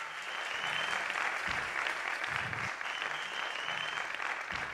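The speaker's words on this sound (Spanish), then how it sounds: "Un aplauso para él." A concert audience at a university hall applauds, dense continuous clapping that stays loud and even throughout, with a few low voices and cheers mixed in.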